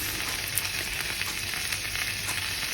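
Chickpeas sizzle steadily in a pan with ginger paste, cumin paste, garlic paste, salt, turmeric and coriander powder, a dense, even crackle up close with no voices.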